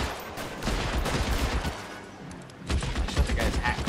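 Rapid volleys of gunshots in a rooftop shootout in L.A. Noire. Dense cracks fire loudly one after another, ease off briefly near the middle, then resume.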